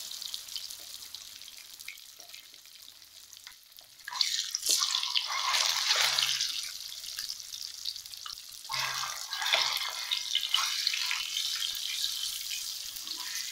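Eggs frying in oil in a pan for a home-style egg curry, a steady hissing sizzle that swells louder partway through and again later, close by with no talking.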